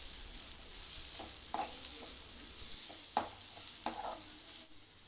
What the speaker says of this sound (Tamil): பொடியாக கட் பண்ணி வச்சுருக்க வெங்காயத்தை சேர்த்துக்குங்க. இதை நல்லா வதக்கி எடுத்துக்குங்க.